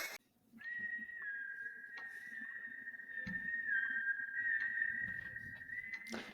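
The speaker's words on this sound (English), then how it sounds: "Disembodied whistling is a no-go for me." A single sustained whistled tone holds steady for several seconds, faint and eerie, over a low rumbling background, in the horror film The Conjuring 2.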